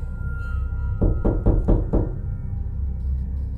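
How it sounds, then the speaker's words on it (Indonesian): Five quick, evenly spaced knocks on a campus toilet stall door, close and distinct over a low steady hum, followed by quiet. "tiba-tiba ada yang mengetuk bilikku"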